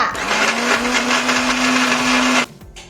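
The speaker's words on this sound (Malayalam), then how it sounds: "മിക്സിയിൽ ഇട്ട് നന്നായി അരച്ചെടുക്കുക" Boiled lemons being ground in a kitchen mixer grinder for homemade dish wash: a loud, steady motor whir with a constant hum runs for about two and a half seconds, then cuts off abruptly into quiet.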